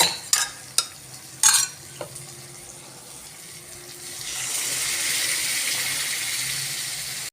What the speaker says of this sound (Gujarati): હવે આપણે દાળ ઉમેરી દઈશું।